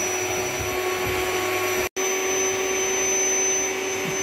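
An electric pump inflating blow-up beds aboard a boat drones with a steady, loud whine, cutting out for a split second before running on.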